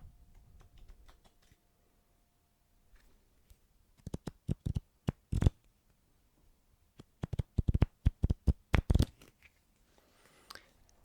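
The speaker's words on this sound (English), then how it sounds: "with your thumb, you're slowly releasing cards down" Playing cards released slowly off the thumb while bent with finger pressure, giving bursts of quick, crisp ticking flicks close up, in short runs separated by near silence, with no talk.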